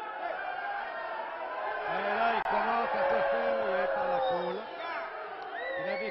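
A wrestling crowd boos and jeers at a wrestler in an arena, a steady loud roar of many voices with someone commentator talking over it throughout.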